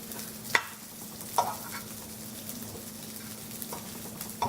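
Pepperoni slices crisp in a pan for a pizza dish, a soft continuous sizzle with a few sharp spatula clicks as they are turned, close and unaccompanied by speech.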